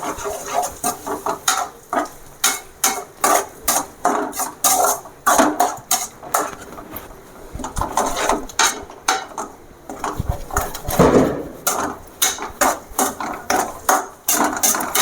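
Eggs mixed with pepper powder are stirred in a pan for a Vallarai-leaf egg stir-fry, giving repeated close scraping and clinking strokes in a steady rhythm with no talk.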